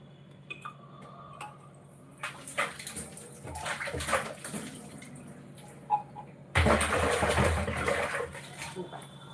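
A tap pours water in bursts over metal puja vessels, with clinks and splashes as they are rinsed, the flow growing loud and continuous near the end.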